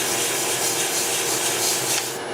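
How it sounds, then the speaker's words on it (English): Sandpaper rubs steadily by hand over a wooden coffee scoop, a close, continuous rasping hiss with slight back-and-forth swells, heard alone without talking. "Grab my sandpaper."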